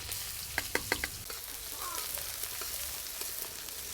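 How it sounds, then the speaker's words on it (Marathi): Onion dropped into hot oil in a kadhai over a wood-fired chulha, giving a steady soft sizzle with a few sharp crackles early on and no talking. "आता तेल गरम झालंय कांदा टाकून घेऊ"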